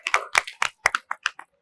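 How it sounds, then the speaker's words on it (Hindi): A small audience at a children's Christmas event claps: about a dozen distinct, crisp hand claps in an uneven rhythm, close by and clear, with silence between the strikes. "आप सभी के लिए पहले जोरदार तालियां हो"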